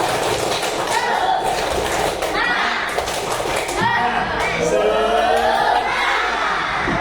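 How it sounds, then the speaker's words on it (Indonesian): An elementary school class performs the tepuk semangat, a rhythmic chanted clap, with children's voices shouting in unison over patterned hand claps and thumps, loud and close throughout. "Coba Bapak minta tepuk semangat."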